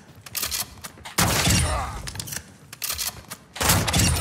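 Gunfire in the Modern Warfare 2 DMZ mode, heard as several loud, sharp bursts of shots with short pauses between them, close and punchy throughout.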